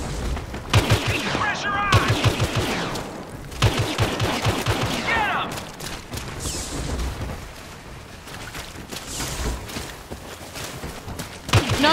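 Rapid bursts of gunfire from the Star Wars Battlefront video game, with overlapping automatic volleys and booming shots in dense, continuous waves, loud and close, mixed with a speaking voice.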